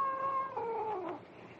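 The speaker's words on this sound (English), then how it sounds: "They ain't skunks, it's cats." Cats caterwaul at night near an Old West camp, a single drawn-out, wavering yowl that bends downward in pitch before trailing off, moderately close and clear against a quiet background.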